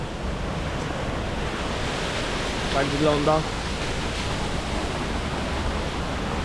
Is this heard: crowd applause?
no